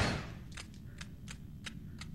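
Several sharp gunshots from a handgun in the horror game Saw, spaced irregularly about a third of a second apart over a low background hum, each a crisp snap of moderate loudness.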